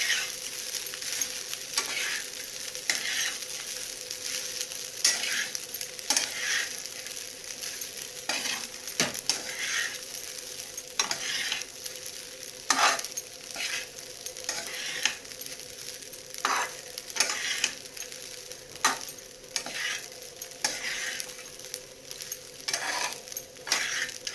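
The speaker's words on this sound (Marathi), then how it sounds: "आता हे एकत्र आपण चांगलं मिक्स करून घेऊया" Khichdi mixture being stirred in a hot pan, a low continuous sizzle overlaid by repeated rhythmic spatula scrapes and taps against the metal over a long stretch, with no talking.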